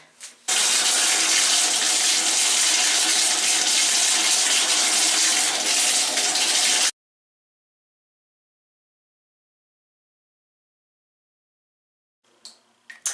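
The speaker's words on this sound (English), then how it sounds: "So I'm going to go ahead and fill my bathtub" Water from the tap fills a bathtub with a loud, steady rushing gush for several seconds, then cuts off into silence before faint handling sounds.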